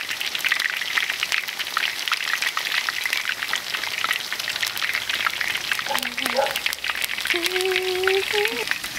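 Steak frying in a pot of hot oil, a bright continuous sizzle and crackle held close throughout, with a voice speaking briefly over it toward the end.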